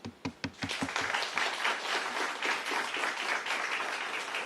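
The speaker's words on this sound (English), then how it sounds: "I think our students deserve an astounding round of applause." Applause for students at the CXC 2024 results release starts as a few distinct, separate claps and quickly swells into a full, steady round of clapping from the audience, moderately loud and continuous.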